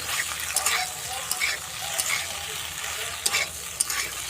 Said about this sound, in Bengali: পাস্তাগুলোকে আমি যে ভেজে নেব